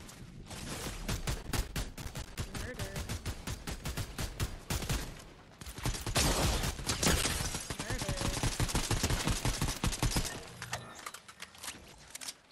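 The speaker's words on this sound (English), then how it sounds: "I heard gunshots, but I don't know where they came from." Rapid bursts of gunfire from the Fortnite video game rattle on in dense volleys for most of the stretch, with a short lull near the middle and a quieter tail at the end.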